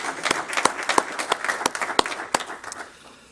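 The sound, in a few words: audience applause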